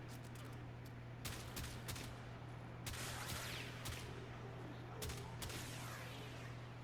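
Tiberon Prime rifle fire in the Warframe video game, several sharp cracking shots spaced in short irregular bursts over a low steady hum, fairly quiet and without talking.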